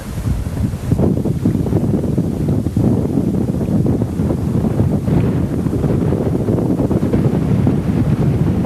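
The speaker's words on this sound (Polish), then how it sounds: "Wiaterek trochę wieje ale w sumie jest bardzo przyjemnie." Strong wind buffets the microphone on a beach at Hurghada, Egypt, a loud continuous rumbling roar with gusty swells and possible surf underneath throughout.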